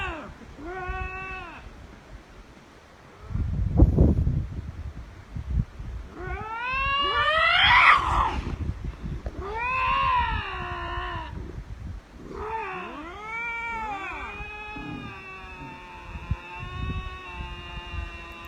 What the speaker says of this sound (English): I know cats make weird noises, but apparently the story is that's the noise that lynx make now